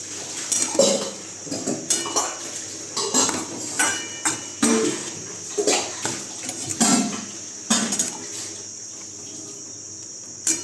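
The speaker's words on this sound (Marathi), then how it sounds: "आता याला एकदम भारी हलवून घ्यायचं" Maggi noodles are stirred hard in a pan, with a spoon clanking and scraping against the metal in quick, uneven strokes about once a second, close and clear with no talking.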